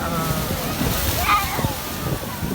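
Seawater at high tide sloshes and splashes against the shore in close surges, while excited voices talk over the water.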